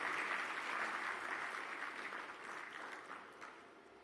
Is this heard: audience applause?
yes